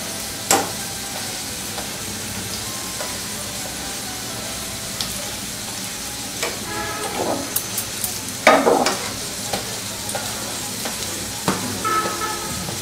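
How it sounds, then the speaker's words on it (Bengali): Aloo paratha frying in a pan over low heat, a steady soft sizzle running throughout with occasional scraping and pressing noises from the cooking, close and fairly loud. "আমি আগে পরোটাটাকে একটু ভেজে তারপরে তেল দিব"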